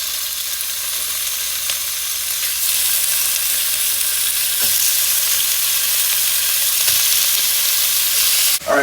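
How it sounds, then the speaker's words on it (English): Beef searing in a hot pan in bacon fat gives a steady, loud sizzle and crackle that runs unbroken for the whole stretch, with a few soft stirring knocks and no voices. "while the beef is searing"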